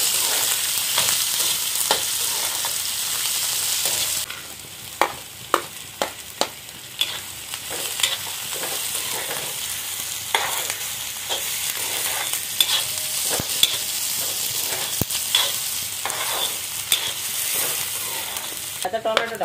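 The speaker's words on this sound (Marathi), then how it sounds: "व्यवस्थित परतून घेऊया।" Chopped onion sautéing in a pan with coriander seeds and cumin for rajma: a steady sizzle with a string of sharp scraping and tapping clicks from the spoon stirring against the pan.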